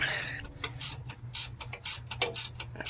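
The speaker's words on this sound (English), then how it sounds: "now I got the wrench up here, and now what I want to do is just tighten it up" A wrench works a sway bar bushing clamp bolt on a Ford Explorer, producing quick ratcheting clicks in a steady mechanical rhythm against a constant low hum, close and moderately loud.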